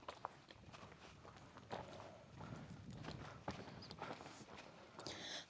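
Cattle shuffle and stamp in a village cow shed, with continuous close hoof clops, thuds and rustling at low level and no talk.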